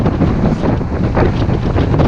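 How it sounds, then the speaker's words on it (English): Heavy wind on the Waccamaw River buffets the microphone in a constant loud, low rumble, with no other sounds breaking through. "it's very windy today"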